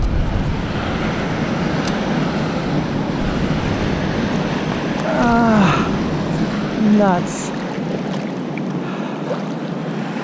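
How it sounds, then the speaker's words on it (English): Big ocean waves roll and wash steadily at a fishing spot off an island, with a constant roar of surf and wind buffeting the microphone. A voice speaks briefly over it. "the waves are just so big today"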